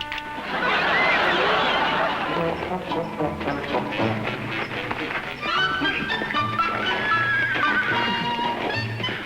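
A horse whinnies loudly up close, followed by a run of clattering hoofbeats, with voices talking over it.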